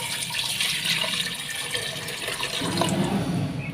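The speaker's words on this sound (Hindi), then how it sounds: "अब हम इसमें पानी डाल देंगे तकरीबन 3 गिलास" About three glasses of water pour into a pot of mutton for pulao stock, a continuous close splashing gush that deepens slightly as the pot fills, with no talk.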